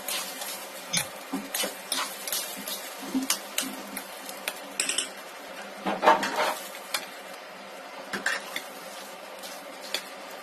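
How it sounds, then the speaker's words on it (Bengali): Rice and lentils dry-frying together in a karai for beef khichuri: a soft sizzle runs beneath irregular scrapes and clinks of a spoon stirring against the metal pan, with no talking. "চাউল এবং ডাউল একসাথে একটু ভেজে নিতে হয়"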